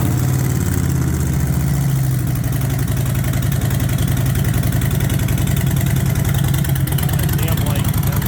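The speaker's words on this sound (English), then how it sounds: "Here's some exhaust." A Harley motorcycle idles close by, its exhaust giving a loud, steady low rumbling throb with an even loping pulse from start to end.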